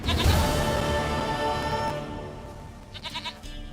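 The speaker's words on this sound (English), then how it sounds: "Goat of mine, dearest, sweetest goat." Goat in The Witcher 3 video game bleating loudly up close, a strong wavering cry over the first half, then fading into game ambience with a few short quieter bleats near the end.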